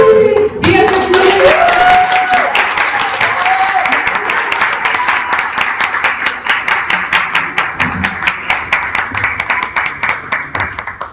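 An audience bursts into applause, dense clapping that swells quickly and then keeps going at a steady level, close and loud, with a few cheers mixed in at the start.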